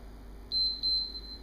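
A small device gives a couple of short, thin electronic beeps close by, followed by a steady faint tone over low background hum.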